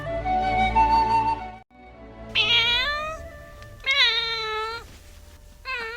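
A cat meows three times, drawn-out and loud, with a shorter low cry before them and brief pauses between calls.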